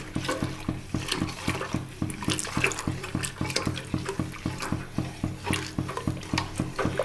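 Hot water is poured little by little into batter for neem flower vadagam while it is stirred by hand, giving a quick, steady rhythm of wet sloshing strokes close up, with no voices.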